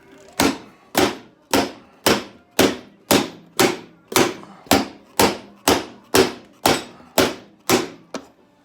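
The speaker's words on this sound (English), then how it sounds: "I took the 5-pound sledge in there and did a little clearancing." A 5-pound sledgehammer pounds a snowmobile tunnel to clear room, landing about fifteen sharp, evenly spaced metallic blows, each ringing briefly, close and loud.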